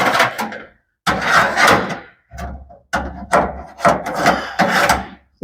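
Metal drawer slides on a vintage MAC side cabinet being handled during a restoration, loud close-up scraping and rubbing in several bursts separated by short pauses, with no talk over it.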